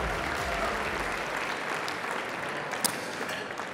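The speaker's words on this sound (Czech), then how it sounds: "Potlesk pro naši finálovou desítku Miss Czech Republic roku 2022." Sustained audience applause for the top-ten finalists at the Miss Czech Republic 2022 final, a dense, steady wash of many hands clapping from a large crowd, with a brief sharper clap near the end.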